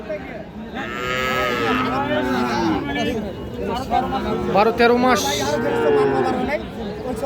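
A Sahiwal heifer moos loudly several times, long drawn-out calls close by, while people chat in the background.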